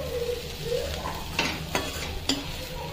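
Vegetable sabji, okra and spring onion with red chilli, sautés in a pan with a constant close sizzle, punctuated by three distinct scrapes and knocks of the spatula.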